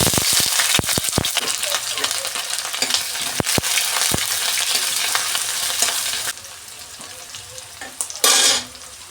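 Cumin, cinnamon and chopped onion fry in oil with a loud, crackling sizzle and sharp stirring clicks that quiets noticeably partway through, followed by a brief renewed hiss near the end.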